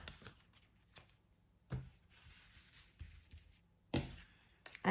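Tarot playing cards being handled and shuffled close by, with a few sharp riffle and slap bursts spaced over quiet gaps and soft rustling in between.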